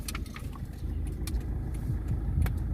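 Car engine running low and steady as the vehicle pulls into a parking spot, with a continuous rumble and occasional light clicks and jingles near the microphone.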